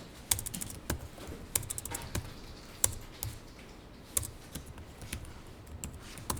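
Keys clacking on a computer keyboard during employee data entry in accounting software, irregular quiet taps with occasional harder strokes, close and alone.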